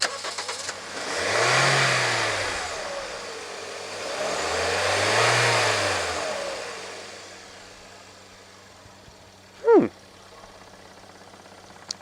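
A small Toyota 1NZ-FE four-cylinder engine in a Toyota Allion idles, then revs up twice in rising-and-falling sweeps, close by, settling back to idle before a brief sharp chirp.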